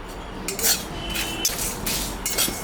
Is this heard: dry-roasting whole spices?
yes